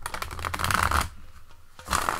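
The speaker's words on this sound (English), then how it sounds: "let's see how she shuffles" A Wildwood Tarot deck on thick cardboard stock is riffled and shuffled up close, with dense crisp flutters in two bursts separated by a brief quieter pause.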